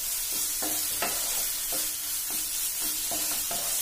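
Paneer bhurji frying in a pan with a steady hiss of sizzling oil, broken by repeated scraping strokes of a spatula stirring at an even rhythm, close and without any talk.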